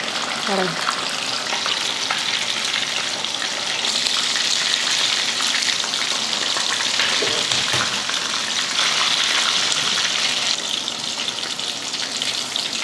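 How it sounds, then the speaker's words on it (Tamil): Fish frying in hot oil in a home kitchen: a steady, close, loud sizzle with crackling that runs the whole time, with no voices. "எண்ணெயில் போட்ட உடனே திருப்பாமல் கொஞ்சம் நேரம் பொறுமையாக விட்டு இது போல் திருப்பிங்கன்னா அதுவாக பொரிஞ்சிடும் ஒட்டாமல் வரும்"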